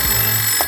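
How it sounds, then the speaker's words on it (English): Telephone rings in a brief shrill electronic tone, loud and close, with no talk over it. "That's the phone."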